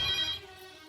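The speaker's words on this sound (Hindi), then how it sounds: "अरे फोन उठाओ रे, कोई फोन उठाओ।" Brief electronic telephone ring, a bright tone burst that fades within a second, heard alone without talking.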